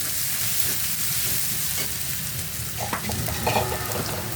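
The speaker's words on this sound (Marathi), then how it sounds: "ती पण टाकून घ्यायची आणि सगळं परतून घ्यायचं व्यवस्थित" Ginger-chili paste with curry leaves sautéing in a pan: a close, continuous sizzle and crackle of frying, with brief scraping stir sounds toward the end.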